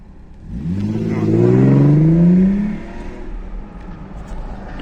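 A car drives past close by and accelerates, its engine note rising and swelling to a loud peak before fading away as it passes, with no talk over it.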